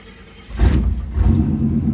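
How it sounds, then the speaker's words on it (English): Pickup truck engine firing up on a cold start through a new aftermarket exhaust: a quiet lead-in, then a sudden loud crank-and-catch at about half a second, settling into a rough, rumbling idle close by. "I'm gonna give you guys a cold start right now"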